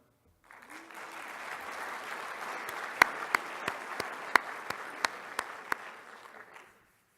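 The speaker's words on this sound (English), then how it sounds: "could become awkward with the hand claps" Audience applause at a small-business awards ceremony: steady broadband clapping from a crowd, with a few sharper individual hand claps standing out, building and fading over several seconds.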